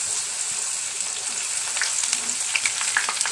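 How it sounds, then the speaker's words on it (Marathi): Curry leaves fry in hot oil, a dense, loud, continuous crackling sizzle with rapid pops that grows slightly busier toward the end. "आता ह्याच्यात मी कढीपत्तो ओतून घेते। कढीपत्त्याचा आवाज बघा किती मस्त येता।"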